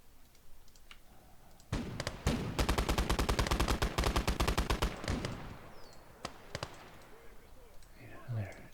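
Rapid machine gun fire in the WWII strategy game Conquest Enhanced: several seconds of dense, steady automatic bursts, loud and close, tapering into scattered distant shots and battlefield noise.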